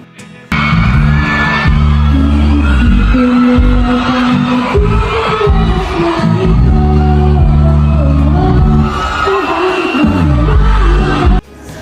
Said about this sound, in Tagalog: Walang tigil ang hiyawan ng mga tao habang kumakanta ang dalaga